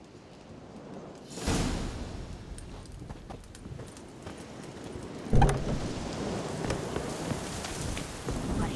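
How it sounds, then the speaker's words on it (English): Steady rain hisses through a thunderstorm in The Witcher 3, near a swamp meadow. A sudden loud wash of downpour is followed by a sharp thunderclap partway through, then the rain stays heavy and constant. "The storm, damn it."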